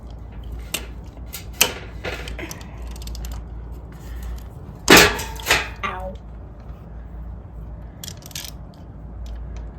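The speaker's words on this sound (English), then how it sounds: "you can get your socket on that drain plug" A socket wrench ratcheting on the oil drain plug of a GasGas MC 65 dirt bike, a few sharp metallic clicks and clanks, one loud burst in the middle, with a person talking around them.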